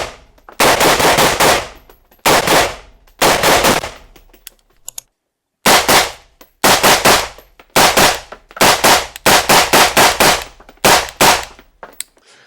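Suppressed gunfire in rapid bursts of loud, close shots with short pauses between strings, sharp and percussive yet muffled, with no talking.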